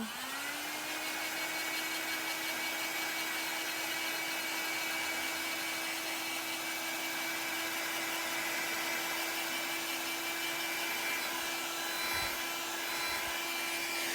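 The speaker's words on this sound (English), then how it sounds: "I can even bring my blow dryer in." A blow dryer drying ink runs continuously with a steady whirring hum, close and constant, with a faint rustle near the end.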